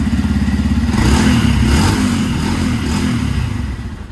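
A Yamaha FZ-X Hybrid motorcycle idles and revs, its engine and exhaust giving a loud, close, steady thumping putter that rises briefly before settling back to idle.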